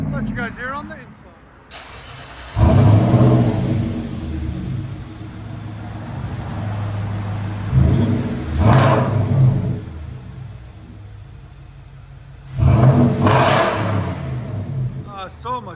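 Inside the cabin, a car with a new X-pipe exhaust and Cherry Bomb M80 mufflers rumbles and revs in three deep swells between lower idle, loud and close, with someone talking over it.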